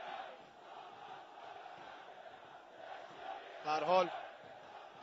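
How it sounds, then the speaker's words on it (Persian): A crowd of Damash Gilan fans chants in unison in the stands during a match against Mes Kerman, a steady distant roar under a commentator who speaks briefly near the end. "هوادارهای تیم داماش هم یک صدا تیم خودشون رو تشویق میکنن"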